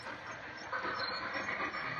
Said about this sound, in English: a commuter train goes by above over the Hellgate Bridge